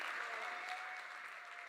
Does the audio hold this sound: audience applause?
yes